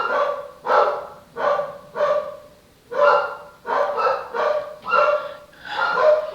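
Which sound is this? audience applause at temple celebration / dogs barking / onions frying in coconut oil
dogs barking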